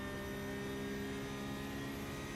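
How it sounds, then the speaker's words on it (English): Sim racing on a Road Atlanta round: a steady, continuous engine drone with a constant low hum and higher tonal whine, loud and unbroken, with no talk. "I couldn't hear it over the engine noise."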